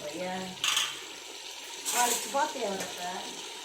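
Mutton pieces land in a hot pan and fry, with sharp sizzling bursts and metallic scraping of pan and utensil, moderately close, alongside a voice speaking.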